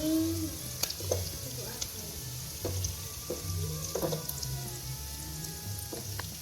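Chicken liver frying in a pan as it goes into fried rice: a steady low sizzle beneath scattered clicks and knocks of handling, close and moderately quiet, with faint voices in the background.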